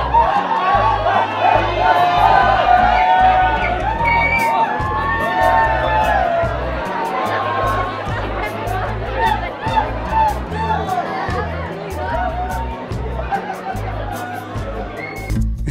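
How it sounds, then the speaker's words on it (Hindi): A huge, dense crowd on New Year's Eve in Toronto fills the air with a constant roar of chatter, shouts and scattered cheering, with nearby voices talking over the hubbub. "ये तो जन समुद्र है"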